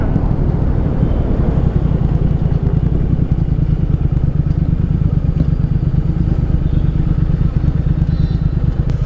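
A Triumph Thruxton R motorcycle rides over a bumpy city road with a loud, constant engine rumble and pulsing low throb, close to the microphone, along with wind buffeting.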